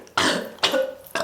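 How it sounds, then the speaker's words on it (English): Two loud, close burps after drinking, each a rough throaty blast of about a third of a second, followed by the start of a third, with no talking. "I'm drinking and burping."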